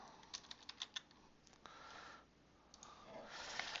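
Soft, quick keystrokes on a computer keyboard enter a search term, a burst of light clicks followed by a few scattered taps, quiet and close.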